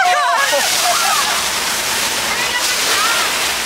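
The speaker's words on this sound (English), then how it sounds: "Ladies and gentlemen, that is a flash flood." A theme-park flash flood effect at Universal Studios Hollywood unleashes thousands of gallons of recycled water in a loud, continuous rushing roar and sloshing surge, filling the whole scene with no break.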